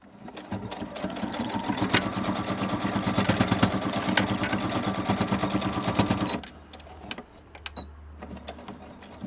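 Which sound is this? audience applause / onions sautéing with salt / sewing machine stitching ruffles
sewing machine stitching ruffles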